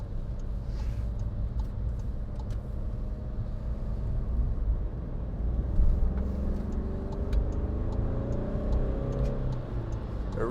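2016 Skoda Fabia 1.4 TDI Monte Carlo diesel accelerating up to motorway speed, a steady buzzy engine drone with rising tones over road and cabin rumble.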